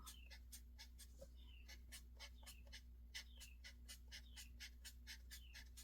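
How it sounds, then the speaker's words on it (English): A small bird chirps outside near a porch, repeating faint, short calls about once a second over quick, regular scratching strokes of a marker and a low steady hum, all very quiet. "There's a bird chirping."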